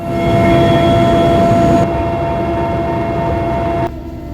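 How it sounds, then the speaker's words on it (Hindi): Mi-17 helicopter lifting off from Delhi heliport, heard as a loud, steady rotor and turbine drone with a tonal whine, heavy low rumble throughout, shifting slightly in level, with no voices. "और कुछ ही देर में MI-17 ने उड़ान भरी दिल्ली हेलीपोर्ट से पिथौरागढ़ के लिए"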